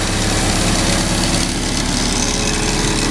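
A 2001 Leroi air compressor powered by a John Deere four-cylinder diesel engine runs steadily up close, a loud continuous throbbing drone with a low rhythmic pulse and no talking.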